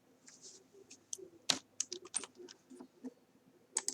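Rapid clicking keystrokes on a computer keyboard while typing a VLOOKUP formula in Excel, irregular close taps with a few louder key strikes, no talk.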